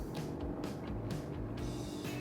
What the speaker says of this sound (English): if you put it into Cupra, it gives this very piped in noise